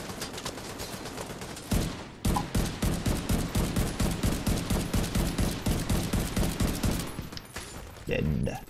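A light machine gun in The Division 2 fires long sustained bursts, rapid evenly spaced loud shots that keep going, broken by a brief pause and followed by more gunfire, with a voice talking faintly underneath.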